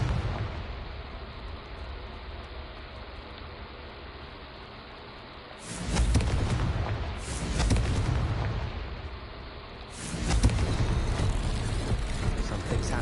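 Confringo blasting spell explosions in the wizarding game Hogwarts Legacy: after a low rumbling stretch, several heavy bursts land a few seconds apart, each a loud, roaring blast that swells and then tails off.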